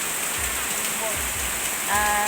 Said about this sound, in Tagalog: Ayan, talagang bumuhos na yung ulan.